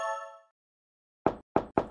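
Three knocks on a door in a Halloween trick-or-treat cartoon, evenly spaced and fairly loud, following a short bright chime-like tone and a pause of silence.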